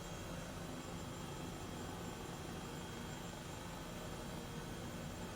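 Steady, dense rotor and turbine drone of an Airbus H135 helicopter in flight over Los Angeles in a flight simulator, loud and unchanging throughout with no other sounds.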